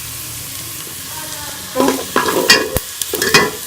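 Whole garam masala dropped into a pan of browned onions, a burst of loud sizzling and frying crackle with stirring scrapes after a quiet start, up close, with a brief spoken word.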